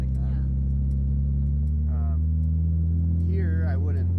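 A 1964 car's engine drones steadily from inside the cabin while driving, a low constant hum that continues throughout as people talk over it.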